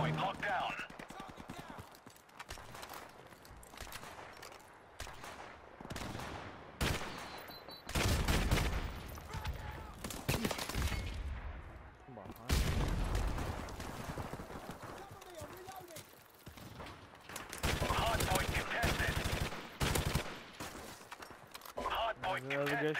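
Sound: gunfire in the video game Call of Duty Remastered, Hardpoint mode

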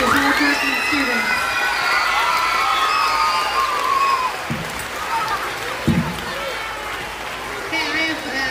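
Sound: audience applause and cheering for fourth-grade students

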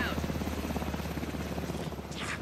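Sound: helicopter approaching, from the video game Alan Wake 2

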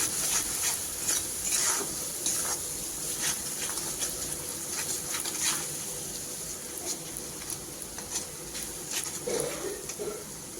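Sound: spice paste being sautéed for a chickpea curry

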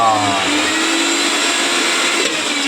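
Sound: mixer grinder making green pea paste

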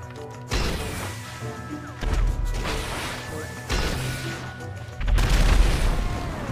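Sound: grenade launcher explosion in the video game GTA V

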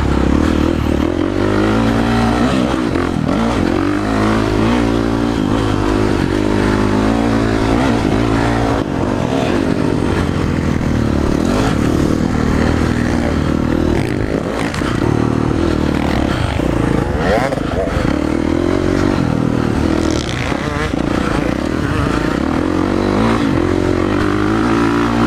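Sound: motocross dirt bike engine revving during practice riding

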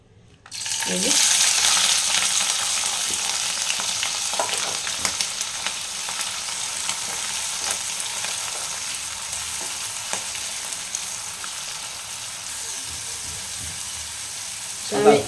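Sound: frying prawns in oil

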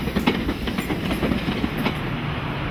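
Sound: electric London Underground tube train running

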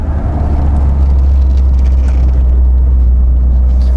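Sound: Volvo 480 car driving onto a roundabout

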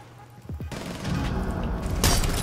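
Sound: gunshots in the video game Rainbow Six Siege

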